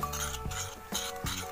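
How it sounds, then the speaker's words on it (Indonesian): A spoon stirs a corn-and-water mixture in a bowl, giving a close, steady scraping with several clinks against the sides. "Terus habis itu kita aduk-aduk lagi."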